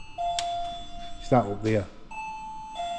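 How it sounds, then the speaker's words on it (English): Electronic two-tone doorbell chime rings as someone comes through the door, a clear ding-dong under a voice, with a steady electronic tone and background hum running through. "You'll hear ding dong"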